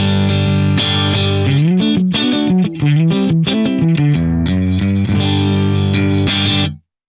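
An electric instrument plays dry, with no reverb added, sustaining loud, slightly distorted chords and a few quick melodic moves, then cuts off abruptly near the end.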